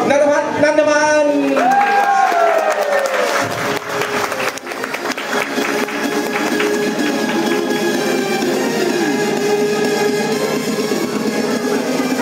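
A training-room audience claps to welcome a product manager. The applause is loud and dense and continues steadily after a voice at the start fades out.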